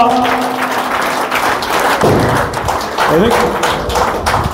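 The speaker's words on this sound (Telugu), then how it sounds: "అందరూ గట్టిగా ఒకసారి చప్పట్లతో" An audience applauds at the oath-taking ceremony of a goldsmiths' welfare association in Chakalamarri. The clapping is scattered and moderate, with thumps, and it mixes with a speaker's voice that continues over it.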